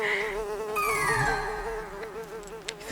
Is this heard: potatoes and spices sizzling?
no